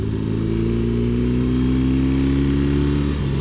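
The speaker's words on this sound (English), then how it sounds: "I'm in love with that exhaust." A BMW R18 Transcontinental motorcycle's boxer engine and exhaust rev up loudly and close, a deep, steady throbbing note that climbs in pitch before easing off.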